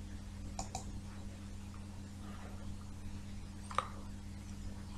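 A computer mouse gives a few faint, sharp clicks, two close together near the start and one more a few seconds later, over a quiet room hum.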